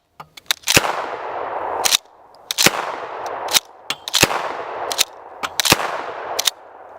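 Winchester Model 12 pump-action shotgun fired repeatedly, about seven sharp loud blasts at an uneven fast rhythm, each followed by a ringing outdoor decay and the clack of the slide cycling between shots.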